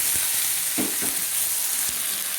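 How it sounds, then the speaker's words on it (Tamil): Mustard seeds, urad dal and cumin fry in hot oil for a drumstick pulp thokku, giving a steady broadband sizzle with a few soft spoon scrapes and taps close by. "எண்ணெய் ஊற்றி கடுகு உளுத்தம் பருப்பு போட்டிருக்கேன் கொஞ்சம் சீரகம் போட்டிருக்கேன்"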